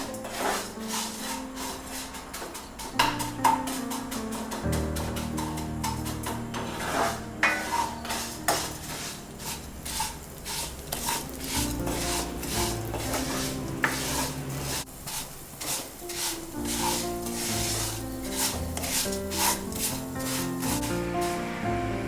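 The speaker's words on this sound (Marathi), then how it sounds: "ही शेवया आपण पहिला परतवून घेऊया।" Vermicelli stir-roasted in a pan until golden brown for a homemade fruit custard, with a steady soft sizzle and repeated scraping stirs of a utensil against the pan, close and continuous over background music.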